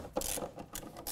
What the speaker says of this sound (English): we're going to take a T50, and we're going to back those out